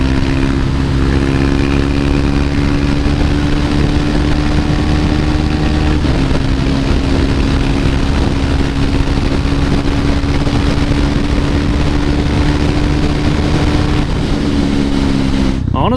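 A KTM 390 Duke single-cylinder motorcycle engine drones loud and steady while riding, holding a constant pitch with a couple of brief shifts, under heavy wind rush.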